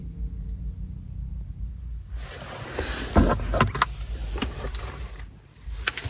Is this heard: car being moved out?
yes